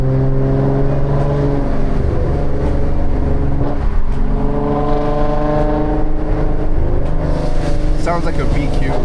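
A loud, high-mileage Audi engine roars and revs close by, echoing off a nearby wall, its droning tone rising and falling steadily throughout while people talk over it.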